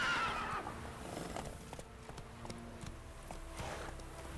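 A horse in The Witcher 3 whinnies near the start, then its hooves clip-clop steadily along a path over ambient game sound.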